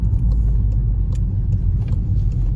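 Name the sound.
Seat Leon FR wheels slipping on an icy road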